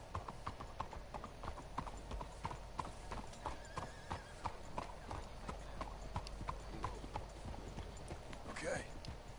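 Rhythmic clip-clop of horse hooves on hard ground in Red Dead Redemption 2, with a horse whinnying, under a continuous background wash and some voices.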